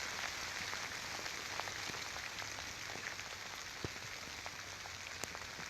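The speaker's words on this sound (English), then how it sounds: "you know, that it's raining." Rain patters steadily on surfaces during a rainy urban night, faint and constant, with scattered sharper drops standing out now and then and no talking.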